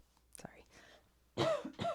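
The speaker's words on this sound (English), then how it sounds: "Hold on, I've got a cough." Faint throat clearing and a small cough come first, followed by two louder, harsher coughs near the end, all close to the microphone in a quiet room.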